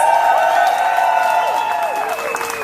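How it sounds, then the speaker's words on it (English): A rally crowd at an outdoor equality rally in Chicago claps and cheers for Candace Gingrich, a steady wash of applause with scattered whoops throughout. "I ask you to applaud for Candace"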